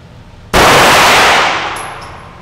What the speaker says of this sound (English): And now you can pull the trigger again.